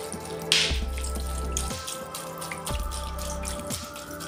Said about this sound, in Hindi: तो अब हम इसमें डालते हैं पानी।